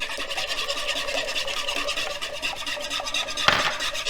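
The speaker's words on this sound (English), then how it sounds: "I like to give my eggs a quick whisk before adding in my cream" Eggs with salt and pepper being whisked in a bowl, a rapid, rhythmic close scraping and tapping that runs steadily, with one sharper knock near the end.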